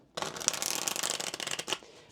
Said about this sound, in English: I'll go ahead and get a shuffle in